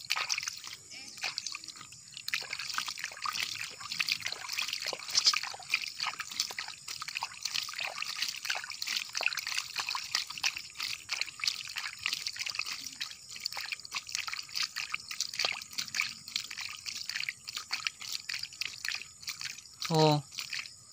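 Water trickles and splashes steadily into a freshly dug hole in the ground, close and continuous, with faint voices in the background.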